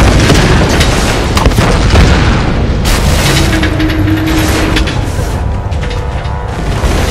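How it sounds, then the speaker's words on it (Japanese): Sustained heavy rumbling blast in Tomb Raider Definitive Edition on PS4, a loud dense roar of explosion and debris that fills the whole stretch with little variation. "一回ここやって上上がったところでまたこれを爆発させます。"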